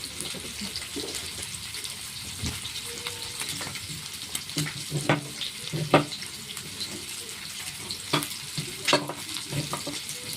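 Tomato, onion, green chilies, garlic and ginger frying in a pan, a steady close sizzle broken by irregular scrapes and clinks of a stirring spoon throughout, with no talk.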